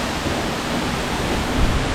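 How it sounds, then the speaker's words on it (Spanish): Jungle waterfall deep in the Amazon rainforest near Puyo, Ecuador, a steady, dense broadband roar of falling water that fills the whole clip at close range, with no voices over it. "La verdad, una sorpresa espectacular esta cascada."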